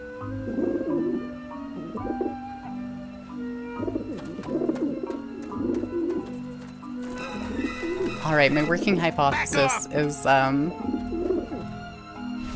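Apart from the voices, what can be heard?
pigeons cooing in Grim Fandango video game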